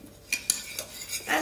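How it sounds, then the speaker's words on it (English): Ginger and garlic being stirred in a pan for a salmon dish, with a few sharp clinks of a utensil against the metal spaced through a short, fairly quiet moment, ending in a soft scraping swirl. "I'm going to give that a little stir."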